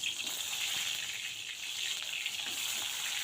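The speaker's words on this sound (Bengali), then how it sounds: "প্রথমে পটলগুলো ভালো করে তেলে ভেজে নেব।" Pointed gourd pieces frying in oil in a wok give a steady, fairly quiet hiss and crackle that holds evenly throughout, with no voices over it.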